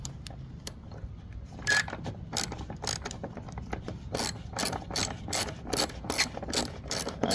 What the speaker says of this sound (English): you'll need a Torx T-27. So let's get that removed guys.